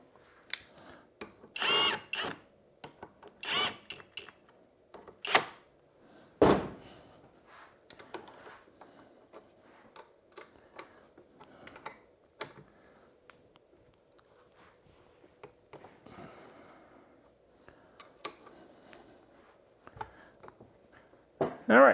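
Mount bolts on a Yamaha Zuma scooter are tightened with a hand tool, giving a scattered series of sharp ratcheting clicks and metallic clanks at close range, separated by quiet pauses.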